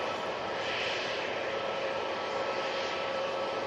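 Embraer jet idling while it holds short of the active runway at Manchester Airport, giving a steady distant engine roar and whine with no change in level.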